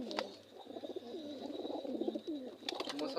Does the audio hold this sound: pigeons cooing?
yes